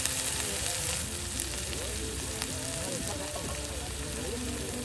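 Whole spices fry in a pan for a beef khichuri, making a steady, moderate sizzle and crackle while voices talk over it.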